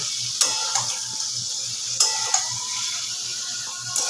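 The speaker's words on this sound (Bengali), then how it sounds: "একটু নাড়াচাড়া করে নিলাম চিকেনটা" Chicken frying in a pan gives a steady close sizzle, with sharp scraping clicks from stirring at about 0.4, 2.0, 2.3 and 4.0 seconds.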